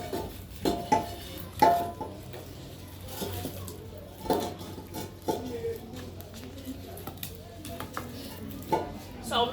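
A cooking pot is handled over a village wood fire while soup is prepared, irregular metallic clanks and knocks at close range with soft rustling between them, under occasional talk.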